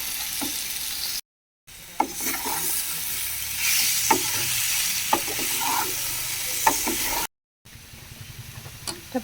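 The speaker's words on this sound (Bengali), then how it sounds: "সিদ্ধ করে রাখা ওল ও আলুগুলো দিয়ে দিয়েছি। এখন এটা ভালো করে নেড়ে চেড়ে কষিয়ে নেব।" Boiled yam and potato pieces being stir-fried in a pan, a steady sizzle with frequent spoon scrapes and knocks against the metal, broken by two brief silent gaps.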